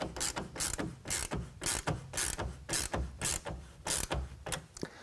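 A 9/16 ratchet wrench snugs down a tonneau cover rail clamp on a 2020 RAM pickup, giving a close, steady run of sharp rapid clicking bursts in a regular back-and-forth rhythm with no talking.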